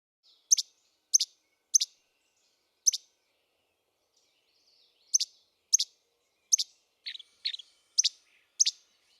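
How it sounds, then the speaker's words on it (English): Recorded least flycatcher song: a series of sharp, snappy two-part chebec notes repeated in quick bursts, about ten in all with a pause midway, clear and close with no background noise. "Least flycatchers have one song type. It's a very strong chebec"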